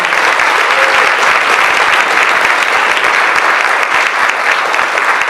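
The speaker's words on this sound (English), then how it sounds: "Please join me in a warm round of applause for the committee members, volunteers, and sponsors." A ballroom crowd applauds steadily at a student employee recognition ceremony, dense loud clapping that holds evenly through the whole stretch with no voices breaking through.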